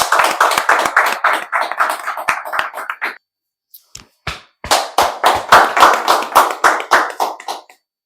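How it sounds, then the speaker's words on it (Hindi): An audience claps for a high-ranking student, first with loud rhythmic clapping in unison, then a brief pause with a few scattered claps, and then the rhythmic, close clapping starts up strongly again. "एक बार इनके लिए जोरदार ताली बजाएं।"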